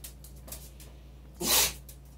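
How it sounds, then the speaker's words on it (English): A dog sneezes once, close by, in a short sharp burst that stands out against a quiet room with a low steady hum; the dog tends to sneeze when excited after breakfast. "It's a lot of sneezes."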